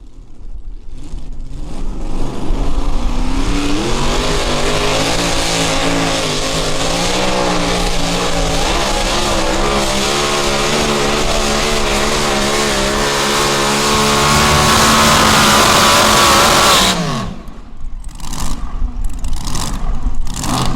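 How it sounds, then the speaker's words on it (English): Pulling tractor at a pulling competition, its engine roaring loud and close with wavering revs climbing and holding high, then cutting off abruptly before a rougher idle and crowd noise. "He was babying, playing with the throttle, trying to get it hooked up off the line"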